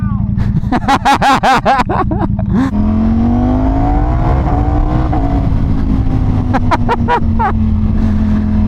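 A sport bike launches hard and accelerates, its engine note rising loud and close, with rapid gear-change bursts before and after a long climbing pull. Voices murmur underneath.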